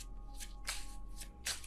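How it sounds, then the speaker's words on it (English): Deck of tarot cards being shuffled by hand, several quick soft riffling bursts close by with brief quiet gaps between them. "I feel like that was a little bit of a bad shuffle"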